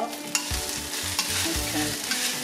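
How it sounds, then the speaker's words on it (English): Garlic sizzles in a pot with onion for a Polynesian-style corned beef dish. A spoon stirs it in several quick scraping strokes over a steady close frying hiss, with no talk. "And then I'll add my garlic. Add that one to the pot."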